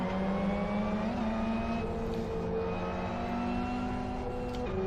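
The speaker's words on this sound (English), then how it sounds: "Hear the turbo whistle." A turbocharged race car engine in the video game Live for Speed holds a steady high drone with rising pitch sweeps as it shifts and accelerates, loud and continuous with a faint turbo whistle.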